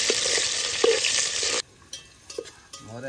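Onions fry in a pan for a home-style Odisha mutton curry, a loud, dense sizzle that cuts off abruptly partway through, leaving quiet room noise with a few soft clinks and knocks.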